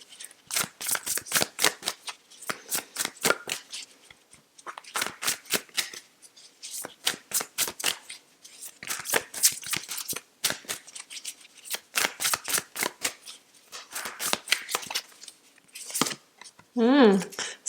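Tarot cards being shuffled by hand, repeated quick riffling bursts in rhythmic clusters, close and crisp, with brief pauses between rounds and a short voiced sound at the end.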